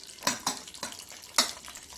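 Cashew nuts dropped into hot ghee for sweet Chakkarai Pongal, giving crackling sizzle bursts in a few close, sharp pulses with quieter frying in between.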